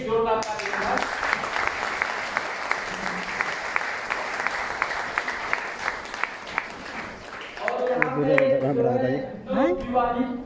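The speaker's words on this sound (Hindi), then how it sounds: "प्लीज उनकी एक जोरदार ताली।" An audience at an event gives guests loud, sustained applause, a dense clatter of many hands lasting several seconds. The clapping fades out and a voice begins speaking.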